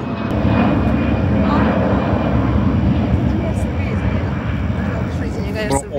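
A large transport plane roars overhead, a loud, sustained engine rumble that fills the whole stretch, with people talking excitedly beneath it.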